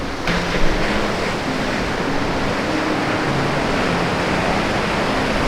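Steady Hawaiian ocean surf roars continuously, a dense wash of breaking waves close by with no pauses.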